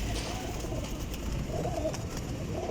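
Pigeons in a breeder loft of about forty birds coo in low, repeated rolling calls, several overlapping at once, close and steady.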